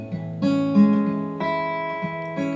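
Acoustic guitar plays the first verse of a song as a guitar lesson demonstration, with a few clear plucked chords and single notes ringing in a slow, gentle rhythm, alone and close.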